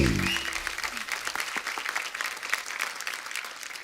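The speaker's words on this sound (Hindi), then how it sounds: "तो आप सबकी जोरदार तालियों के साथ प्लीज वेलकम फिल्म गहराइयां से the very gorgeous and stunning Deepika Padukone" Studio audience on a TV comedy talk show clapping and cheering for Deepika Padukone's entrance, a dense sustained burst of applause that starts loud and slowly eases, with no speech over it.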